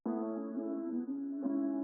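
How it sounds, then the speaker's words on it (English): An electric-sounding guitar with a light EQ sits in a slow, melancholy rap beat, holding one steady, sustained chord for about two seconds before cutting off with a sharp noise burst at the end. "with the guitar, I came over here and just put a little EQ on it"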